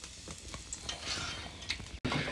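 Meat dropped into a pot over a wood fire in a rural home kitchen sizzles and fries with stirring scrapes, a steady close crackle with occasional clinks and a brief dropout near the end.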